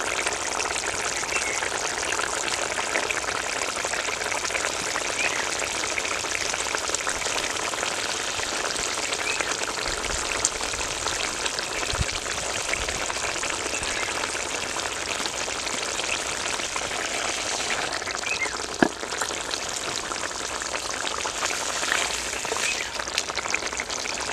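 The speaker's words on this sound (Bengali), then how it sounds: "এবার আমি ভেজে রাখা মাছগুলো দিয়ে দেবো" Fried pabda fish sliding into boiling curry gravy in a Bengali kitchen, a continuous dense bubbling and sizzling hiss with a faint clink partway through, close and steady throughout.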